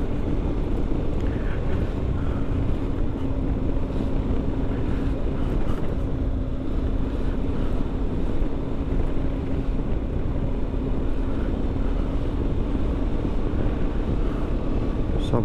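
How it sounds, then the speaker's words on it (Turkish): Motorcycle ride through a city in the early morning, with a steady low engine drone and heavy wind rush over the microphone throughout, unbroken for the whole stretch. "bayılıyorum şehir içinde bu saatlerde motora binme"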